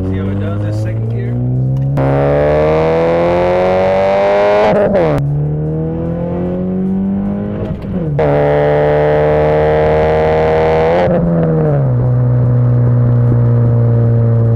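A 2009 Scion tC pulling hard in second gear, its engine note climbing steadily in pitch over several seconds, dropping at each shift, then climbing again; loud and close, heard from inside the car.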